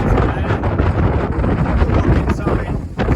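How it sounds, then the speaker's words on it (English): Strong wind buffets the microphone atop the Castillo San Cristobal fortress in San Juan, Puerto Rico, a loud, continuous gusty rumble with fluctuating roars filling the whole stretch. "It's very, very windy when you're all the way on top of the castle."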